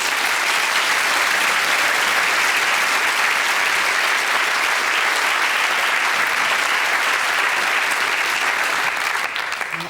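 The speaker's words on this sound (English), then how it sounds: "Let's give him a nice big round of applause." A television studio audience greets a volunteer with a long, full round of applause, many hands clapping in a thick, continuous roar that stays loud and steady before easing slightly at the very end.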